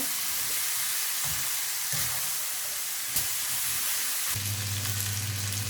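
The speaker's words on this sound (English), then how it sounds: "Mix the pasta." Pasta tossed and stirred in a hot pan over high heat for Indian-style spicy masala pasta, giving a loud, steady sizzle with occasional scraping stir strokes and no voices.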